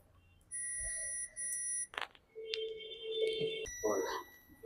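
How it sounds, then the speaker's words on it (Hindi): A multimeter set to buzzer mode beeps while probing a motherboard and scaler PCB for shorts, giving several steady tones that start and stop across the span, with someone talking over them. "ये जो मीटर को बजर मोड पे रखें कुछ इस प्रकार"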